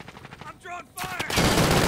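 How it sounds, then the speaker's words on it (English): Gunfire in the video game Call of Duty Modern Warfare, with a dense, loud burst of shots rising in the second half after brief game sounds. "I'm under fire."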